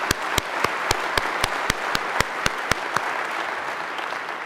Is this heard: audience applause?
yes